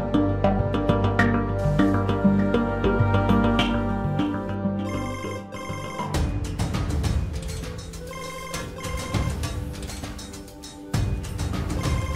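A telephone rings during an Indonesian domestic drama, its repeated electronic ringtone pattern sounding loud and close over background music, continuing steadily through the whole stretch without any speech.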